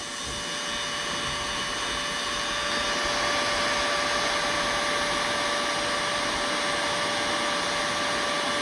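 A heat gun blows with a steady, loud whirring hiss and a faint high whine as it softens and melts the plastic around a Jacuzzi diverter valve.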